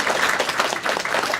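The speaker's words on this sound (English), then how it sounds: "So let's give a quick round of applause for all three teachers." An audience at an IB math, physics and English seminar applauds the teachers, a brief burst of dense, even clapping that fills the room with no voices over it.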